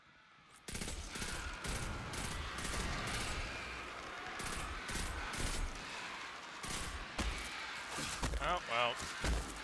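Revolver gunfire in the sci-fi shooter game Destiny 2, a run of sharp shots and bursts spread across the clip amid busy in-game combat noise, with a voice talking in places.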